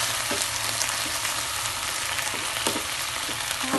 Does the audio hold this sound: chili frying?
yes